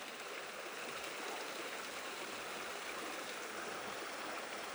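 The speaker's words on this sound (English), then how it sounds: "Again, just a tiny bit of water coming over." A small waterfall at Bear Creek Preserve, just a little water trickling over huge stones, giving a soft, steady, even rushing wash with no voices, faint and constant.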